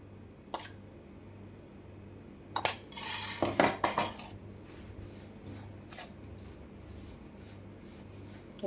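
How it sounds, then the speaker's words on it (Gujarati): Spoon mixing salt into red chili pickle masala, a brief burst of metal scraping and clinking in a bowl amid a few isolated taps, close and quiet with no talk. "ત્યારબાદ તેમાં આપણે ત્રણથી ચાર ચમચી જેટલો મીઠું ભેળવી દઈશું"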